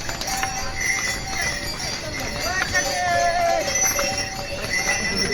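Horse hooves clip-clop along the mountain pilgrimage trail to Kedarnath, a steady uneven beat under busy outdoor noise, distant voices and chatter.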